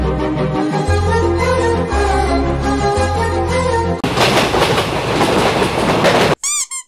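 Moving passenger train heard from on board, a loud rhythmic clickety-clack of wheels over rail joints with a droning hum, shifting to a rougher rush of noise before a few brief high squeals at the end.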